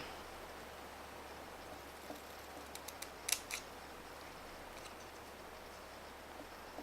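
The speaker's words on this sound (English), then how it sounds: "Snip there, snip there, going exactly into the corner." Scissors snip paper while a card is being made, a few faint, brief cuts in an otherwise quiet room.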